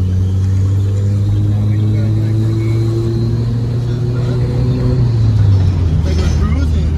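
A Honda Civic engine revving while shifting into second gear, with a loud, steady low drone that drops in pitch partway through as the gear changes, under cabin road noise.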